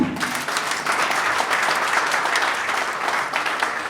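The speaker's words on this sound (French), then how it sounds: "Est-ce qu'on peut acclamer pour lui?" An indoor audience at a membership card ceremony applauds to welcome a moderator, a dense, sustained clapping that stays loud and even from start to finish with no break.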